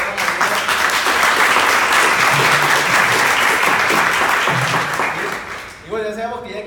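A crowd breaks into loud, sustained applause with dense clapping throughout, fading near the end as a voice begins speaking.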